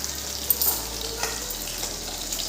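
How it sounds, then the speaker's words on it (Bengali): Pieces of fish fry in oil in a wok, giving a moderate, continuous sizzle with a few small spatters and no talking. "এখন আরও কটা মাছ দিলাম ভাজাতে"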